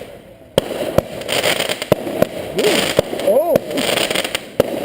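A fireworks display goes off in a string of sharp, loud bangs and crackling bursts with rising whistles, heard from a distance while a person reacts between the explosions.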